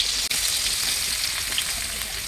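Onions fry in a pan with cumin seeds and green chillies, giving a steady, dense sizzle with a brief dip near the start as the pan settles; no one speaks.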